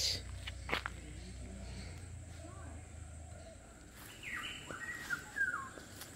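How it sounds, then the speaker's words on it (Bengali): Assorted birds call in a jungle near a nature camp, with scattered chirps and brief whistled notes. The calls sit at moderate distance over a low rumbling background, growing busier toward the end. "অদ্ভুত অদ্ভুত সব পাখি ডাকছে।"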